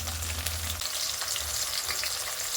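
Curry leaves, tomato and rock salt sautéing in a pan, a close, steady sizzle with a low rumble at the start and light stirring scrapes, no talking.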